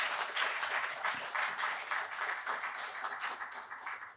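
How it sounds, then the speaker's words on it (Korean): A conference audience applauds award winners at an academic society's annual meeting, a dense, sustained wash of many hands clapping at moderate distance, slowly tapering toward the end. "두 분께 큰 박수 부탁드립니다"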